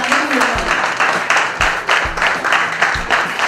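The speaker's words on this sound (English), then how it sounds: "we should give a big round of applause for Janki" Women's Day seminar attendees give a round of applause, fairly close and loud, with a few heavier low thumps standing out from the steady clapping.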